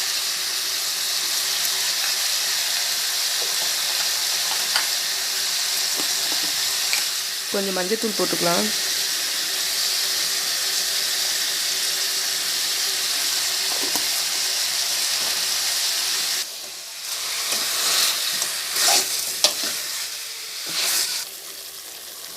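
Country chicken sautés in oil in a pan for a Tamil chicken curry, giving a steady, close sizzle throughout. A person talks briefly partway through, and there is a stirring clatter near the end.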